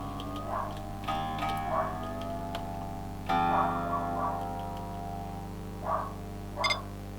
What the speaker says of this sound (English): that bleep means it's in tune.